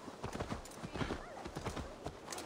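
Horse hooves clip-clop in Assassin's Creed Valhalla, a steady run of close, rhythmic hoofbeats with a brief whinny, under game dialogue.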